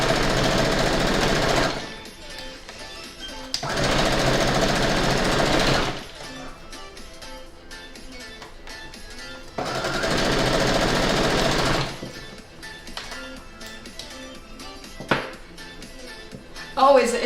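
A sewing machine stitches over pins while quilting a pixelated Halloween bat block, running in two loud bursts of steady rattling whir separated by pauses, with people talking in the gaps.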